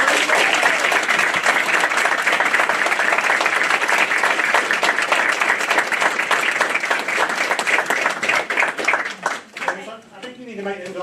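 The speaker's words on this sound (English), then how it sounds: "All right, let's give a big round of applause." A board meeting audience gives a sustained, dense round of applause, loud and continuous for several seconds before thinning out and tapering off.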